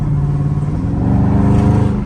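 A Dodge Charger Scat Pack engine rumbles steadily as it cruises through city streets, a loud, continuous low drone that swells slightly toward the end, with no talk over it.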